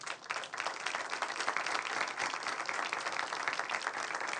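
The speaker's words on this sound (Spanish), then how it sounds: "quiero rendirles un fuerte aplauso" Audience applause at an anti-corruption conference in 2018: a dense, even round of clapping lasting a few seconds, fairly distant and steady throughout.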